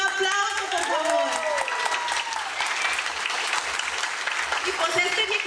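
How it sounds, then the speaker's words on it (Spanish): Guests at a birthday party clap together in a steady round of applause lasting several seconds, with voices talking and calling out over it. "Un aplauso, por favor."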